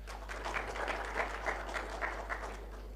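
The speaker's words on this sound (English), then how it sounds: "I think we should give the Chair another warm round of applause" Audience applause at a mobile app launch event, a moderate patter of clapping with a loose, pulsing rhythm, somewhat distant and soft over a steady low electrical hum.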